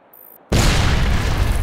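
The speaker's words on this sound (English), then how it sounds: "We'll blow the charges when we got some distance." A sudden, loud explosion of C4 charges in a video game bursts after a brief quiet moment, then a heavy roaring rumble of a collapsing cave sustains at full volume.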